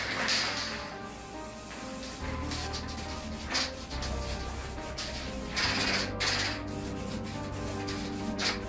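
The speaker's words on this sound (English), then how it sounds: "I'm just going to coat it overall with white." Spray paint hissing onto an old fan being coated white, close bursts of aerosol spray repeated in short irregular passes with quiet rubbing and handling noises between them.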